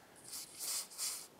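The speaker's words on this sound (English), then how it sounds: "We'll go ahead and spray some contact cleaner inside the orifice" Three short hissing bursts from an aerosol can of contact cleaner sprayed into a 1978 Johnson 6HP outboard carburetor orifice, the last two longer, close by and fairly quiet.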